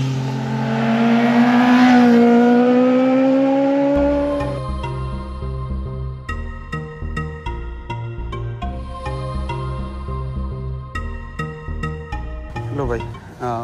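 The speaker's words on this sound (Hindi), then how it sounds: "बाइकर गैंग आ रहा है" A passing vehicle engine rises to a loud whine and fades over the first few seconds on a hilly road, then music with a steady beat takes over.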